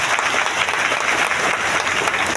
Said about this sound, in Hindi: वाह, एक जोरदार ताली आप सबके लिए।